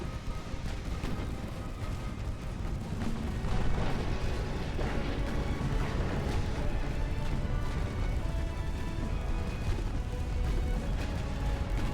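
Warship guns fire in a continuous, dense barrage of deep booms and crashes during a naval battle in Ultimate Admiral: Dreadnoughts, with 1890-era hulls; the rumbling salvos stay loud and sustained throughout, with no voices.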